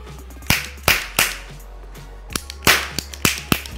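A toy ring cap gun fired repeatedly during Diwali testing, giving sharp close cracks in uneven bursts, some shots coming in quick pairs, each followed by a brief ringing decay over a low steady hum.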